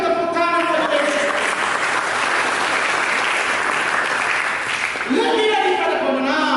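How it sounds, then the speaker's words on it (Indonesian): Steady applause from a church congregation during an Ascension Day sermon fills the room for several seconds, with talking audible at the start and end. "Mari kita berikan tepuk tangan kepada Yesus."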